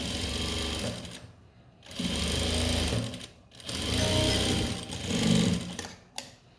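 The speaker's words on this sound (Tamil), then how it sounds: "இதுக்கும் படிமான தையல் போடும்போது நல்லா பாருங்கள், இப்படி போட்டிங்களா ஈஸியாக வரும்." An electric sewing machine stitches a blouse seam in three or four sustained bursts of rapid mechanical chattering, each separated by a brief pause, heard up close and loud with no talk.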